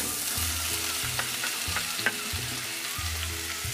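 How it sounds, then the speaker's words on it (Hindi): Cut water chestnuts shallow-fry in hot desi ghee in a kadhai over a high flame, giving a steady, close sizzle with scattered crackles and pops and no talking. "अब हम अपने कटे हुए सिंगाड़े इसमें डालेंगे।"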